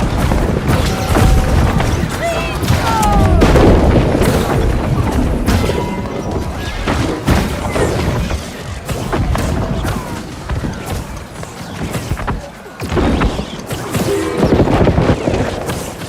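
Cannons boom again and again during a siege defense in a video game, with heavy dense impacts and crashes layered over constant battle clatter, loud and close throughout.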